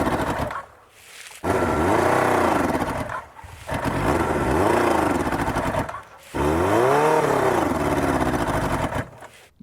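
A carbureted Japanese motorbike, one of a batch shipped in a container from Japan, idles up close with a loud, rough, uneven engine note, its revs rising and falling in repeated swells separated by brief dips.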